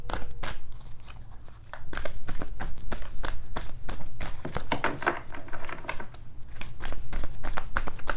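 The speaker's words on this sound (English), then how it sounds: "Two more shuffles, and I will pull two cards from the top if none come through." Tarot cards are shuffled by hand in repeated bursts of crisp, rapid riffling clicks and slaps, close and fairly loud, with brief pauses between rounds and no voices.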